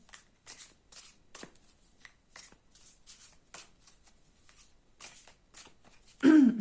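Tarot cards are riffled and shuffled in a quick, irregular series of soft crisp flicks, close up, ending in a louder burst.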